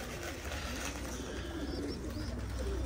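Pigeons coo softly on a rooftop loft, with low, hushed calls repeating over a constant background hiss and a few faint chirps.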